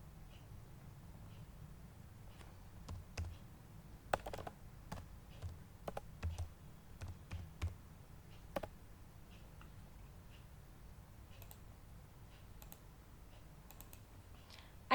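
Sparse, sharp clicks at a computer, scattered in small irregular bursts over a low steady hum, fairly close and quiet, with no talking.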